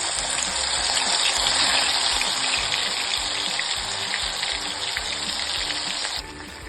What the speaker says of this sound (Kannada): ಸೊ ಚಿಕನ್ನು ಫ್ರೈ ಆಗ್ತಾ ಇದೆ, ನಿಧಾನಕ್ಕಾಗಲಿ